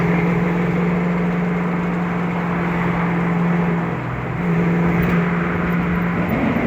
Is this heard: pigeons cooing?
no